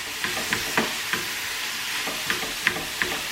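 Ground beef browning in a frying pan for shepherd's pie, a steady close sizzle broken by light scraping clicks as the meat is stirred.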